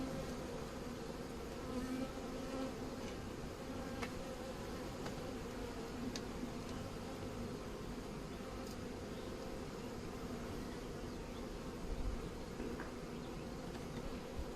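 A dense, continuous buzzing of many honeybees from a swarm close by at a hive, a steady droning hum that never lets up.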